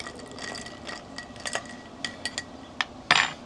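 Spoon clinking and scraping inside a glass while stirring a cocktail with Angostura bitters, a series of light, close metallic taps and chimes, ending in a brighter ringing clink.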